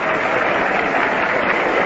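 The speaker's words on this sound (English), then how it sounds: "Richly deserved the applause that Grba gets now as he walks up to the plate." A baseball crowd on opening day in 1961 applauds pitcher Eli Grba as he walks to the plate, a steady, dense roar of clapping with a muffled, narrow radio-broadcast quality throughout.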